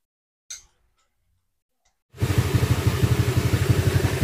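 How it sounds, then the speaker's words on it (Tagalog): A Honda Click 150 scooter with a rebuilt throttle body, back to stock, starts up after a few faint clicks, then idles close by with a steady, rapid, ticking engine pulse. "Eto na, maandar na yung makina,"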